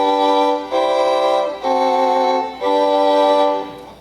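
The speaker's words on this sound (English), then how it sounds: "And this lets you play all the strings on the fiddle at the same time." A fiddle bowed with a loosened bow across all its strings at once gives full, droning chords, three or four long sustained strokes in a row, close and fairly loud.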